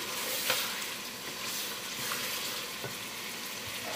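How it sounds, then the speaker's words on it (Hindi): Whole spices such as mace, black pepper and cloves fry in a karahi for chicken karahi, a low continuous hiss of hot oil with occasional faint stirring taps, close but quiet. "1-2 मिनट हम खड़े मसालों को भून के"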